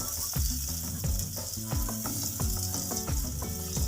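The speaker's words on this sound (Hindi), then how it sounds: "जी तो ऑयल गर्म हो चुका है। अभी हम इसमें बैटर शामिल कर देंगे।" Vegetable paratha batter frying in hot oil on a low flame, a close, continuous sizzle punctuated by rapid crackles and repeated scraping or stirring knocks throughout; no talking.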